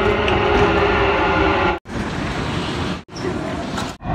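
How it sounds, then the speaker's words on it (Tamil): A Dubai Metro train runs loudly and steadily, with a sustained rumble and rushing noise broken by three short dropouts, heard close from on board or on the platform without anyone talking. "ஸோ இந்த மெட்ரோ வந்துடுச்சு"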